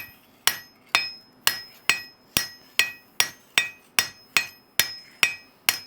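A blacksmith hammers metal on an anvil in St. Augustine, Florida: about a dozen sharp, ringing metallic strikes in a steady rhythm, each blow ringing out and decaying before the next, close and loud with no talk.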